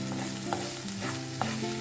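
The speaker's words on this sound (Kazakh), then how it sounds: "осы табаға туралған пияз салып, ол жұмсарғанша шамамен 2 минуттай қуырамыз." Chopped onions sizzle in a frying pan while being stirred, a steady close frying hiss with faint scraping clicks of a utensil and no voices.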